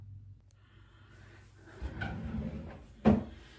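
A bathroom drawer slides open close by, a soft rumbling slide followed by a sharper knock as it stops, faint against a quiet room with a breath or two beforehand.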